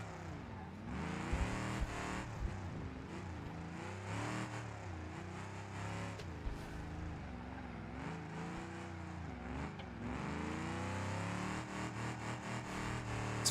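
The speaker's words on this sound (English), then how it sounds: "It's for sure misfiring" Misfiring car engine in the racing game BeamNG, running steadily and loud with rough, wavering pitch and occasional stumbles over a long stretch, no speech.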